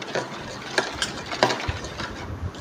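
Mango juice mixed with powdered sugar being shaken hard in a closed container, a rapid series of rattling, sloshing knocks in an uneven rhythm, close and moderately loud, with no voices.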